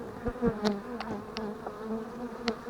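Honeybees buzz around an open hive as frames are worked, a low steady drone with separate bees flying close past now and then, fairly faint.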